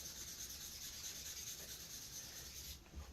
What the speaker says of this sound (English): 220 grit wet sandpaper to start. That's my roughest grade. And you'll sand each of these 4 sides